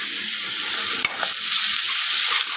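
Chowmein with potato and paneer fries in a pan, a loud, steady sizzle with occasional scraping stirs close by.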